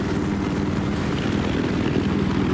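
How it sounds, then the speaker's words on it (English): Transport helicopter in a video game flying steadily with a continuous, loud rotor and engine drone, rhythmic low thumping throughout with no voices. "It's not as fast as the other, or it's not as fast as the attack helicopter, but it's just as agile."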